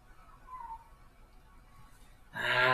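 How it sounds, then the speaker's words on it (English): A house cat gives a single short meow near the end, loud and close, after a stretch of quiet room tone. "That cat, yo."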